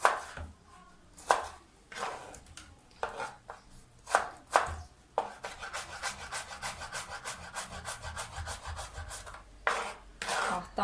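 Onion being chopped with a knife on an old, wobbly wooden board: a few irregular hard chops, then a fast, steady run of close knife strikes before slowing again.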